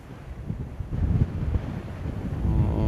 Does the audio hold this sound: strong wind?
yes